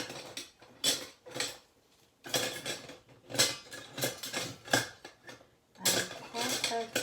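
Metal palette knives clatter and jingle in bursts as someone rummages through a collection of them, sharp clinks and scrapes close up with short quiet gaps between handfuls.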